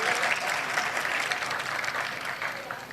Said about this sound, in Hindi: तालियां होनी चाहिए जरा अच्छी सी।